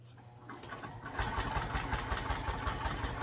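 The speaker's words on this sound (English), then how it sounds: "we're just going to sew along each side and the bottom" Sewing machine running a top stitch along the sides and bottom of fabric, starting after a brief pause and then whirring steadily with a rapid, even needle rhythm, close and moderately loud, with no voices.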